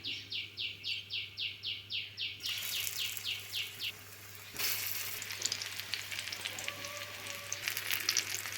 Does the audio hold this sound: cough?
no